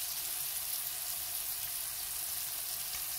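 Coriander stirred into an omelette frittata frying in a pan, with a soft, even sizzle that carries on throughout and no voices.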